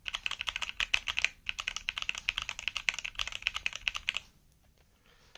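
Rapid, steady clicking of keys on a custom mechanical keyboard fills most of the stretch, close and crisp, then stops abruptly into near silence.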